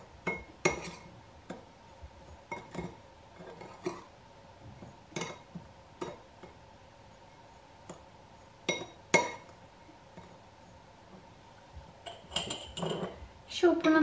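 A lemon zest mixture is spooned into a dry glass jar, giving a series of sharp clinks and taps of utensil on glass, some louder, spaced irregularly over a quiet kitchen background.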